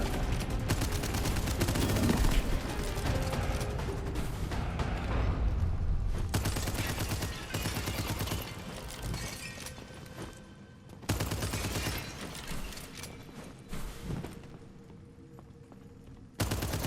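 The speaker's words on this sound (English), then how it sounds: "actually really like the chain gun" A chain gun in the video game Abyssus fires in long, dense, continuous bursts, loud and rapid, with brief pauses between volleys and a final short burst.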